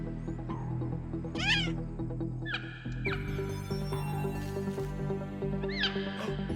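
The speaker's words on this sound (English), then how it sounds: "That cheetah chirp. It's coming from down here." An animated cheetah in a cartoon gives a few bright, rising chirps, one around the middle and another near the end, over a steady bed of background music.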